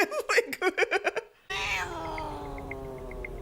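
A cat meows in a scene from the TV series Stranger Things, a drawn-out plaintive cry with a faint background score, following a burst of short clipped voices.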